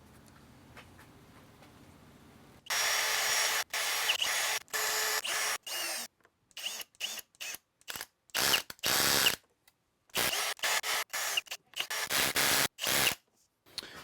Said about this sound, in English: I am countersinking these as well